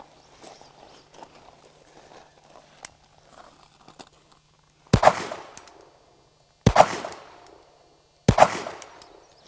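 A concealed-carry handgun fires three sharp, loud shots down range at a shooting range, spaced over a second apart, each followed by a short echo, after a quiet stretch of faint shuffling and handling noises.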